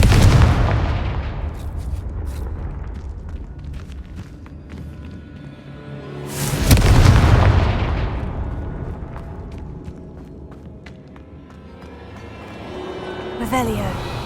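Confringo spell explosions in the video game Hogwarts Legacy: two loud fiery blasts several seconds apart, each a sharp boom decaying into rumble, among smaller game effects and a voice speaking.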